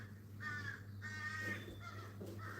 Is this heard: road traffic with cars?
no